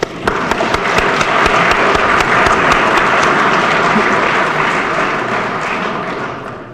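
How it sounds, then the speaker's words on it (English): Dense, sustained applause from an indoor crowd at a hockey arena's 100th-year celebration, loud and steady throughout with scattered sharp claps, tapering slightly at the end. "Round of applause."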